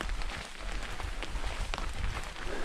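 Steady rain patters down through a red pine forest on a wet hiking trail, a dense, even hiss of drops close by with no voices.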